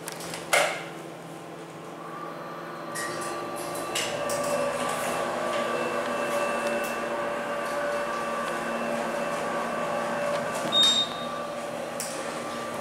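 An Otis hydraulic elevator motor in a Menards store in Paducah, Kentucky runs with a steady whine and hum. A faint clunk at the start and another near the end sit around the continuous drone.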